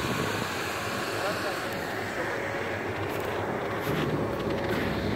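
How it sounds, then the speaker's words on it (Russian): A steady, rumbling Lada Niva off-road engine drone with broadband noise holds throughout, fairly constant and moderately close, with no clear changes in pitch, on a snowy winter hillside. "Это шумит Нива."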